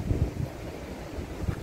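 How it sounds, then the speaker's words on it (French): Steady wind blows across the microphone on an island coast near a lighthouse, a continuous low rumbling roar with a few heavier gust thumps and no voices. "il y a du vent"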